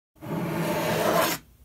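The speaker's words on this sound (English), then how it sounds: "For this, I dragged a coffee mug" A coffee mug drags across a surface in one sustained scraping rub that starts abruptly, holds for over a second and stops cleanly, loud and close with no talking.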